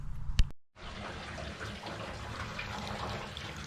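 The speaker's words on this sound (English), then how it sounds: "flushing out the tank. You can hear the acid sizzling in the ground." Water rushes and splashes steadily out of a Mazda RX-7 FB gas tank, flushing out acid used for rust removal, a continuous hissing gush after a short knock.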